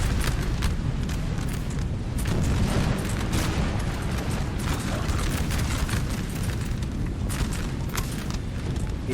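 Massed musket volleys and artillery booms from a Napoleon Total War 3 4v4 battle between French and Russian lines, a dense continuous crackle of distant gunfire with deeper thuds rolling underneath.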